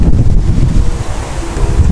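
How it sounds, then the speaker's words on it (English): Strong wind buffets the microphone in a constant low roar, loud and close, with no voices. "Y'all, it's so windy."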